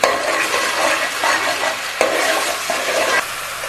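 Masala frying and being stirred in a pan for a stuffed tinda (round gourd) dish, a steady dense sizzle with repeated scraping strokes of the spoon, close and fairly loud throughout with no talk.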